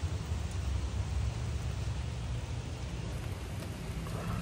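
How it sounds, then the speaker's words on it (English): Steady, dense rainfall hisses continuously with a low rumbling undertone, no voices. "It's just raining again."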